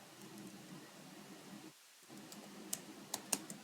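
A few sharp, isolated key clicks on a computer keyboard near the end, including an Enter press, sit over a steady low room hum; the keystrokes are close and distinct.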